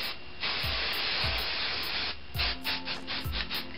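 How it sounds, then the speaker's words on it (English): Maximum-hold hairspray hisses out in a long continuous burst at the hair roots, followed by several shorter spurts with faint rubbing sounds between them. "We're gonna spray up the roots,"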